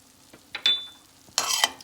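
A spoon stirs a pan of mushrooms seasoned with black pepper and salt, likely a Gluten-free plantain lasagna filling, giving a few short scraping sizzles: a soft stroke, a brighter swish, then a louder burst near the end.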